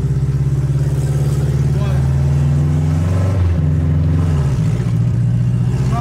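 A Chevrolet Chevette's engine revs loudly and close by, its pitch rising and falling through several surges over six seconds, while people talk excitedly over it.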